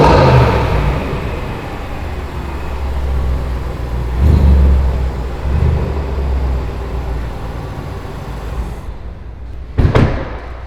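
A car engine idles and revs in a continuous low rumble with a few louder swells, then a sharp door-like slam near the end; voices are faint in the background.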